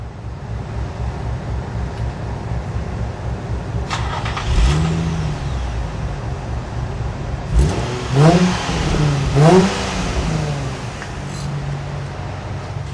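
A tuned car engine with a thin-walled polished stainless steel exhaust, heard on a dyno at an import performance shop, idles with a low rumble and revs up briefly a few times, loud and close.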